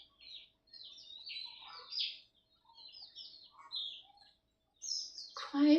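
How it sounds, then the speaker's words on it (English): Soft clucks and chirpy calls from chickens drift through a quiet morning, scattered in short bursts with pauses between, fairly faint, ending in a louder closer squawk. "Quiet time, just listen to the chickens."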